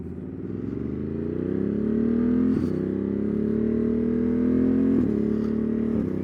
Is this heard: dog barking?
no